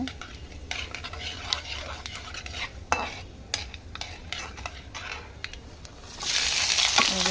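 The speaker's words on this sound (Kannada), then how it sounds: "ಚೆನ್ನಾಗಿ ಫ್ರೈ ಮಾಡ್ತಾ ಇದ್ದೀವಿ ಗೋಲ್ಡ್ ಕಲರ್ ಬರ್ತಾ ಇದೆ" Beetroot palya frying in a pan: a steady low sizzle under sharp scraping and clicking from a spatula stirring against the metal, with the sizzle growing louder and hissier in the final second.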